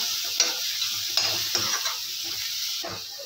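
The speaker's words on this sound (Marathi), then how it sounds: "हे सर्व मसाले परतून घ्यायचे आहेत तेलामध्ये" Cumin powder and red chilli powder sautéed in hot oil for egg kheema, a bright continuous sizzle with several distinct spatula scrapes and clinks against the pan close by.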